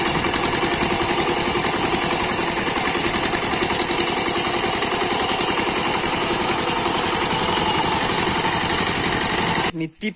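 A tractor engine runs with a steady, loud chugging throb that holds close and unbroken for nearly the whole stretch, then cuts off abruptly near the end, with someone talking over it.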